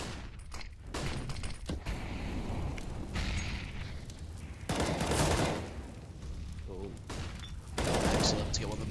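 M4 rifle fire in a Counter-Strike match comes in loud, dense bursts of rapid shots, mixed with game effects and some talk over the top.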